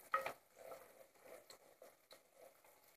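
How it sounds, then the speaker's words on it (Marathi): A wooden spatula stirs masala in a clay pot, giving soft scraping and pattering rustles with light sizzling, quiet and close, one sharper scrape at the start. "आता मातीच्या भांड्याला हे लाकडी उलटणीनेच आपल्याला असं मसाला वगैरे आहे तो हलवून घ्यायचा आहे"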